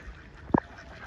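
A single short, sharp quack from a duck at play, loud and alone against quiet outdoor background.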